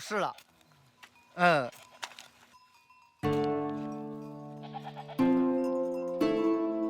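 Goats bleat in the mountains of Zhangjiajie in Hunan, a few close, wavering cries over the first seconds before a voice takes over.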